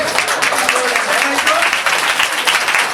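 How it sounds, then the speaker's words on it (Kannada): Loud applause from a congregation at a Sunday church service, a dense continuous wash of clapping that fills the room from start to finish, with voices mixed in. "ಜೋರ ಚಪ್ಪಾಳೆ"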